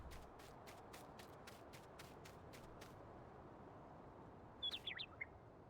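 Game birds in Farming Simulator 19 chirp in a brief cluster of quick tweets near the end, following a run of regular ticking clicks over a steady ambient bed.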